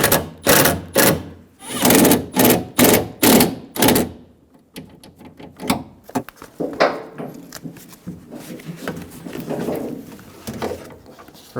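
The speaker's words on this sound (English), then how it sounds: "Using a 10mm socket, snug down the bolts." A 10mm socket ratchet tightens the window regulator bolts on a 2000-2007 Ford Focus front door, giving a close, quick run of rhythmic clicking bursts for about four seconds before it trails off into quieter, scattered handling noises.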